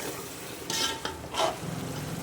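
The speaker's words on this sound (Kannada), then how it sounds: "ಈಗ ಮಸಾಲೆ ಚೆನ್ನಾಗಿ ಅಂದರೆ ಎಣ್ಣೆ ಫ್ರೈ ಆಗಿದೆ" Masala with homemade garam masala sizzling and frying in oil in a pan for mutton pulao, a steady soft crackle with a few louder stirring scrapes, close by and alone.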